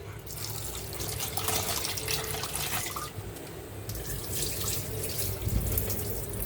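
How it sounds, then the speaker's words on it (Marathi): Tap water runs steadily into a sink, splashing as cleaned prawns are rinsed close by. "कोळंबी स्वच्छ आपण धुवून घेऊयात"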